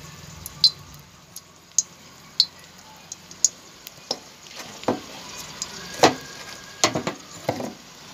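Dried red chili frying in hot oil in a wok, a quiet steady sizzle broken by sharp ticks and pops and a few soft scraping stirs, no voices.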